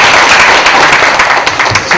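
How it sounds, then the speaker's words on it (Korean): Steady applause from a church congregation during a Sunday service, dense and continuous clapping at a strong, even level throughout. "박수 할까요?"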